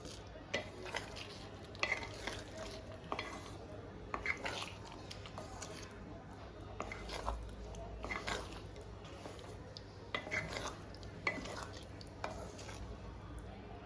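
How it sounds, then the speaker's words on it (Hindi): Egg gravy being stirred gently in a pan over a low flame, with soft, irregular scraping and clinking of the spoon against the pan, fairly quiet and close, with light sizzling underneath. "अच्छे से मिक्स कर लेना है, हल्के हाथ से मिक्स करना है"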